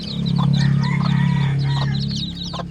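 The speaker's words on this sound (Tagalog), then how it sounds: "ito yung mga bagong pisa natin guys" Newly hatched chicks and grown chickens cheep and cluck close by in a steady chorus, over a loud, continuous low hum.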